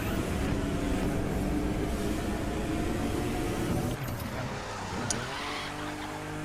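A car engine drones steadily in The Crew 2 as the car cruises along, with a continuous loud hum that dips briefly as the engine note shifts.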